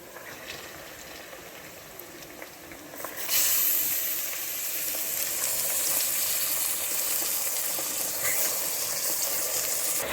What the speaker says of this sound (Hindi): अब मैं इसके अंदर निहारी का पीस डाल रही हूँ।